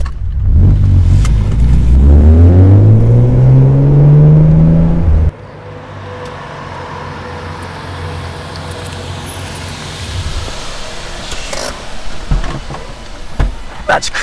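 An ITB-converted BMW E36 M3 inline-six revs hard under acceleration, its pitch climbing steadily for about five seconds before an abrupt cut to quieter cabin and road noise, with a voice speaking over it.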